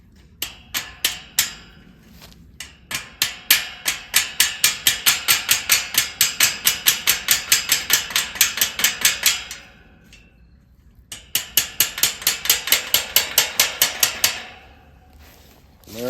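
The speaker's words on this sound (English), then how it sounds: "you might need a hammer. If I just got this little baby hammer," A small hammer taps pet fence panels together in quick, steady runs of sharp metallic clicks, pausing once briefly before another rapid burst of taps, close and clear.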